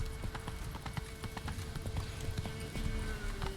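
Horse hooves gallop in The Witcher 3 video game, a quick, repeated clip-clop close by and fairly loud, with a few other faint game sounds underneath.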